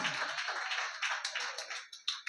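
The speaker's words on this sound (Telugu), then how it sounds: "ఒకసారి గట్టిగా చప్పట్లు కొడుతూ దేవుని నామాన్ని మహిమపరుద్దాం" A church congregation claps together in quick, loud, continuous applause that thins into a few scattered claps over about two seconds.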